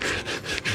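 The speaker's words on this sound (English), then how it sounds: "detail sanding." Hand sanding along fiberglass corners on a boat, fairing them for Coosa board rod holders: a continuous, close, loud abrasive rasping in steady back-and-forth strokes, heard alone.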